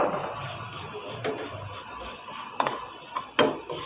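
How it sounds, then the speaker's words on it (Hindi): Vermicelli frying in desi ghee in a pan over low heat: a soft continuous sizzle and rustle, broken by a few sharp metallic clinks and scrapes of utensils against the pan. "अब इसको सेवइयों को फ्राई कर लेते हैं।"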